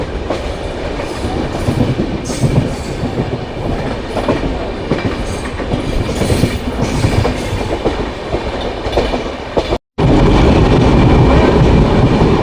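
A passenger train runs at good speed on the Moga to Haridwar route, its wheels clattering in a steady rhythmic rattle with rumbling carriage noise, loud and close, cutting out briefly before resuming.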